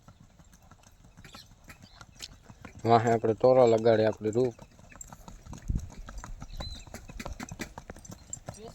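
Hooves of a mare clip-clop steadily across the whole stretch, close and fairly loud, while a person speaks briefly over them partway through.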